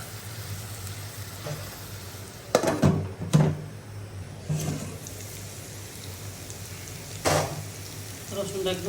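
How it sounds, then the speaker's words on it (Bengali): Garlic, onion, ginger and green chilli paste fries in a pan with a steady low sizzle, broken by several sharp stirring scrapes and clatters; no voices. "রসুনটা একদম ভাজা হয়ে গেছে"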